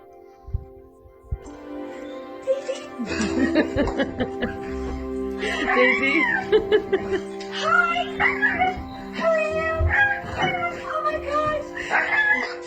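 A dog reunited with its household whimpers and whines excitedly in high, wavering bursts, with a few yips, close by, while people talk and exclaim in the background.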